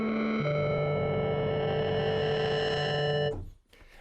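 Vital FM software synth playing a sustained tone whose pitch jumps in stepped random sample-and-hold modulation, bright and distorted, then cutting off abruptly into brief noisy decay near the end.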